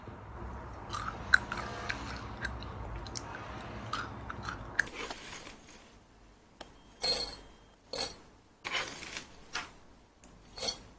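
Someone eats homemade granola with clinks of glass or dishware, followed by quiet, close crunchy chewing in several distinct bursts.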